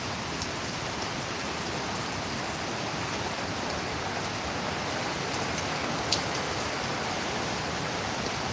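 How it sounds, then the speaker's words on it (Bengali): Steady rain pours down outdoors on a cool evening, a dense, even hiss of falling drops that stays constant and fairly close, with no voices. "যতক্ষণ বৃষ্টি পড়ে একটু ঠান্ডা ঠান্ডা আবহাওয়া থাকে"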